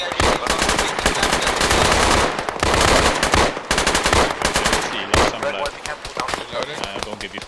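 Rapid bursts of automatic gunfire in a video game, loud and close, in several long rattling volleys separated by short gaps.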